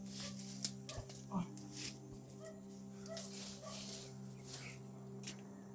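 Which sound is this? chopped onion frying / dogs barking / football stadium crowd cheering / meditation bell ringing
dogs barking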